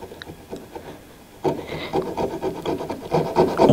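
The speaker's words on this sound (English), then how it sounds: "I can now carefully cut the dowel off" A fine handsaw cuts through a 3.5 mm wooden dowel, starting with a few light strokes and then settling into steady, close, raspy back-and-forth sawing that grows louder toward the end.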